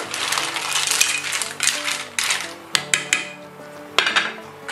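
Mussel shells clatter and clink into a metal pot, a busy rattling tumble with a few sharp knocks near the end.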